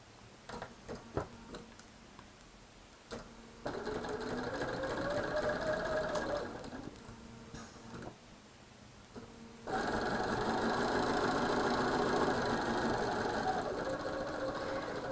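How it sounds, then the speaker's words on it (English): A sewing machine stitches straight seams through quilt pieces, running in steady fast bursts with brief pauses between, a continuous mechanical whir with fine ticking, close and fairly quiet with no talking. "now taking this to the machine, and I'm sewing straight down"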